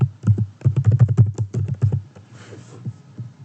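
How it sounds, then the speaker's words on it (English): Rapid, uneven clacking of keys on a computer keyboard, close and fairly loud, trailing off into softer scattered taps. "And then I start typing in"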